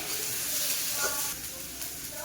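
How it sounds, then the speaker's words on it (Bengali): Spices frying in a pan for a fish curry, a steady close sizzle and hiss with a slight drop in intensity midway, with faint talk in the background. "সব মশলা ভালো ভাজা হয়ে গিয়েছে"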